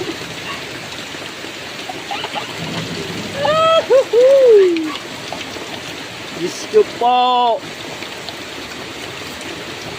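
Heavy rain suddenly pours down outdoors as a steady, loud hiss through the whole stretch, with excited voices calling out over the downpour.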